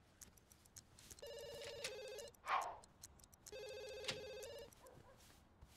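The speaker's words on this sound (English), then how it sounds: "And the phone's ringing." Telephone in The Sims 2 rings twice, each a bright electronic trill about a second long separated by a pause, faint and close, with a soft game sound between the rings.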